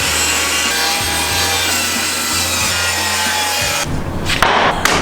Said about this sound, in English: First order of business is to cut our big sheet of plywood into a shorter sheet of plywood.